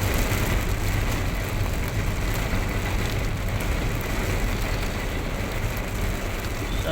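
Rain patters steadily on a car while driving in traffic, with a constant low road and engine rumble beneath the dense hiss throughout.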